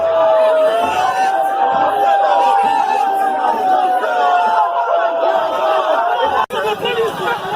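A crowd of protesters gathering near police at a COVID-19 protest: loud, continuous babble of many voices with a sustained high tone running through it, broken by a brief dropout near the end.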